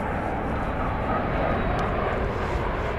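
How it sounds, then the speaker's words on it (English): Airliner on its arrival at DFW Airport, inbound from Barcelona, giving a steady, loud broadband jet roar that fills the whole stretch without letup. "Here comes the flight from Barcelona."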